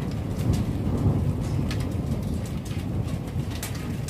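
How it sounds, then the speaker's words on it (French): A thunderstorm with heavy rain and hail pours down steadily, a dense, close roar of drumming and rumbling with scattered sharp hits, and no voices. "On a un orage."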